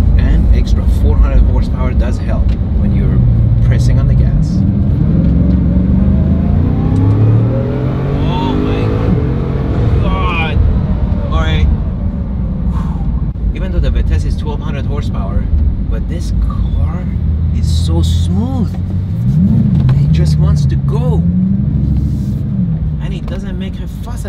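Bugatti Chiron hypercar engine pulling hard under acceleration while driving, a steady loud rumble with rising and falling revs throughout, heard from inside the car with a voice talking over it.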